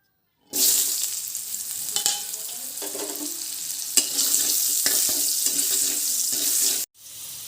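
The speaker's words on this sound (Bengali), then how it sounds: "আলুটা ভেজে নেব" Potatoes frying in mustard oil in a wok, a loud, dense close-up sizzle with occasional stirring scrapes and pops, starting suddenly and cutting off near the end.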